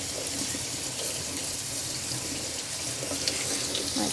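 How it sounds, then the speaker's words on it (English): Tap water runs steadily into a sink as kale leaves are rinsed, a constant close splashing hiss with no talking. "Got our kale in here, and I'm going to give it a rinse."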